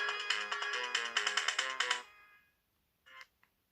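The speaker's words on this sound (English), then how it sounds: "Right, let's have a look at these ringtones then." A 2006 BenQ Siemens Hello Kitty AL21 mobile phone plays a bright, melodic ringtone of rapid repeated electronic notes for about two seconds, then stops; after a pause two short tones chirp faintly.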